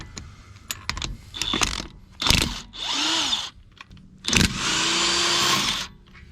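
Impact wrench working a wheel on a Nissan 300ZX slicktop, loud close bursts of rapid hammering whir, two longer runs separated by pauses, with clanks and handling noise in between and no talking.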